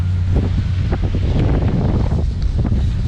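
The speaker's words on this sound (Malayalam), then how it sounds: "നല്ല കാറ്റടിക്കുന്നുണ്ട്" Steady low rumble of strong wind buffeting the microphone, continuous and loud, with faint rustling underneath.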